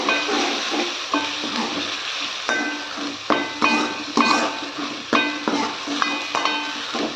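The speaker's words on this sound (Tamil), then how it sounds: "இப்போ வந்து நாம் ப்ரான் வந்து கழுவி வச்சுருக்கோம் இல்லையா இப்போ சேர்த்துக்கலாம்" Dried prawns sizzle in a pan as they are stirred, a steady frying hiss broken by repeated sharp scrapes and clinks of the spoon against the pan, up close with no voices.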